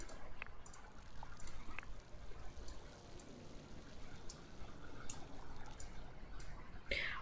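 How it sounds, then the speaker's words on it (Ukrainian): Plants being watered in the life-simulation game inZOI: a faint, continuous pouring trickle with soft splashy hiss and a few small drips, low in level throughout. "Полиємо ще водою."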